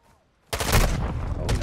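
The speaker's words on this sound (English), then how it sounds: "Taking effective fire." A loud, sudden burst of sustained gunfire from Call of Duty Modern Warfare II erupts after a near-silent moment and keeps hammering close by without a break.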